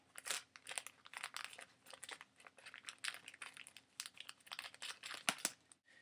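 A plastic snack-size sandwich bag being cut across the top, heard as a close, steady run of crisp crinkling and snipping rustles at moderate level, with no talk.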